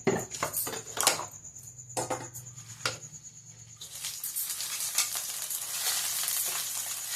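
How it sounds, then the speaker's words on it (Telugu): Gongura leaves frying in oil in a pan for gongura pickle, a steady close sizzle with scattered clacks and scrapes of a utensil against the pan, growing denser and hissier in the second half. "కొంచెం అంత ఆయిల్ వేసి గోంగూర వేసి అడగంటకుంటూ వస్తుంది."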